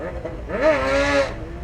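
A small motor is throttled up, its droning whine rising and then holding steady for under a second, fairly close, before dropping back into background noise.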